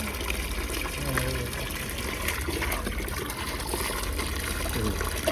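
Fresh water is poured over an animal being bathed in a tub in a Botad village, making a steady, continuous rushing trickle and gush close by. Low voices sit faintly under the flowing water.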